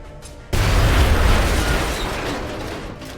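A frag grenade goes off in X-COM: Enemy Within, a loud sudden boom after a short quiet lead-in, followed by a long rumbling decay.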